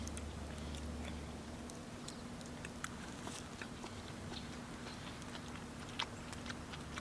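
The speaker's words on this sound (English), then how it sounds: "Cabbage is crunchy." Crisp crunching bites of crunchy cabbage at a Thanksgiving meal cooked on a firepit, steady and close, with scattered sharp clicks over a low constant hum in the background.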